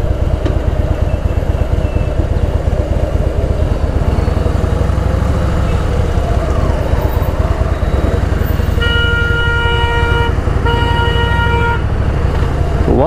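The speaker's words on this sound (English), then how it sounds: "Why honk so much, dude?" Car horns honk in road traffic over a continuous engine and wind roar, with two clear short toots close together near the end.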